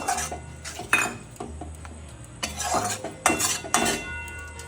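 Masala with tomato paste is stirred in a pan, the spoon scraping and clinking against the metal in uneven bursts of close, fairly loud knocks over a low sizzle.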